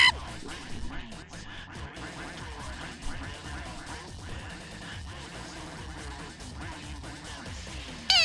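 Cartoonish duck-quack sound effects burst out amid busy Sonic Adventure 2 gameplay sounds, crashes and music, with repeated quacks over a dense, continuous game mix.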